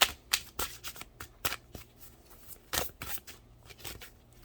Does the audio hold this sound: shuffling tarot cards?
yes